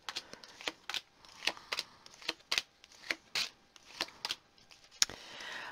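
Tarot cards shuffled and dealt out one by one, a string of crisp, close papery flicks and slaps in an uneven rhythm, with no voices.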